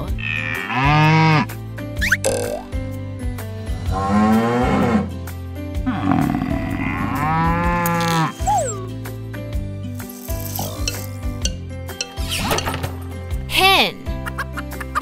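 Low, drawn-out bovine moos stand out above a bouncy music track, with a voice briefly heard between calls.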